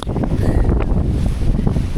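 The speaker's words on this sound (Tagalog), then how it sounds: "napakalakas ng hangin" Strong wind buffets the microphone at a campsite by the sea, a steady loud roar that blankets the low end without a break and with no voices.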